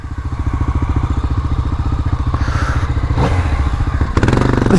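A 2019 Yamaha MT-09 accelerates hard with a loud, close, pulsing engine note that climbs steadily in rhythm, ending with a brief clatter.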